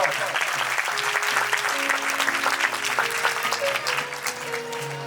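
A church congregation claps loudly and steadily during a Christmas sermon service, with sustained keyboard notes and voices underneath the applause.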